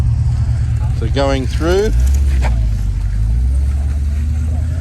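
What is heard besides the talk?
HSV Clubsport car engine driving past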